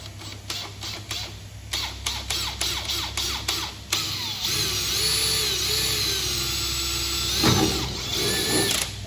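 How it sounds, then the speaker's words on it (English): A power drill with a 3mm bit drills a pilot hole for a boarding ladder in a series of short bursts, then one long steady grind, whining pitch rising as it bites in. Close and fairly loud. "as best you can, drill the center of the hole that you've marked."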